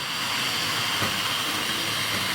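A Wrenn/Tri-ang model locomotive pulls Pullman coaches along the track with a steady, even whirring rumble that stays constant and fairly loud throughout, with no voices.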